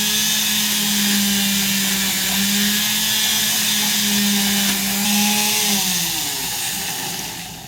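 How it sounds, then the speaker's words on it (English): A hand Dremel polishes a pocket watch case at a workbench, its high-pitched motor whine steady and loud, dipping slightly in pitch as it presses against the metal before winding down. "I really shouldn't be doing this small polishing at my bench, but this is just using a hand Dremel."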